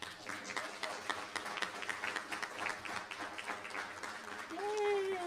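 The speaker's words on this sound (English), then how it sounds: "Yes, you can clap while they're walking up." Scattered clapping from a small audience at a school district board meeting, fairly quiet and uneven, with voices talking over it and a cheer near the end.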